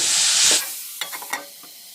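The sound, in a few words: stirring amla pickle with jaggery in a pan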